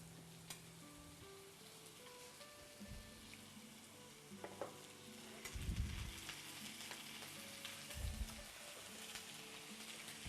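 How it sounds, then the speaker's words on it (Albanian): Chicken pieces sizzle and crackle steadily in a pot over a stove in a kitchen setting, a faint continuous frying hiss broken by a few louder clatters and spatters, with no voices. "Tani, erdhi momenti ku ne do të hedhim në tenxhere pjesët e pulës."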